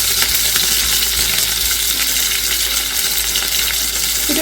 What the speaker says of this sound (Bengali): এটাকে আমি একটু তেলের মধ্যে নাড়াচাড়া করে নেব।